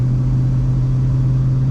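A 1976 Ford F250 Highboy pickup truck cruises down the road, its engine giving a steady, even low drone with no speech.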